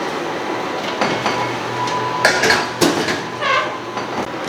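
A metal pie pan clatters into the bottom of a home oven, with a few sharp clanks and scrapes over a low kitchen background hum.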